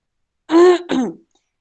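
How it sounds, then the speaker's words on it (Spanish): A woman's brief coughing attack, two harsh throat-clearing coughs in quick succession, close and fairly loud, then silence. "hay momentos en los que sí me agarra este ataque de tos"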